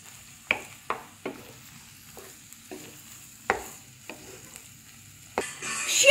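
Double cream sauce with pancetta is stirred in a pan: a quiet, low bubbling simmer broken by a series of sharp spoon knocks and scrapes against the pan, growing louder near the end, with no speech.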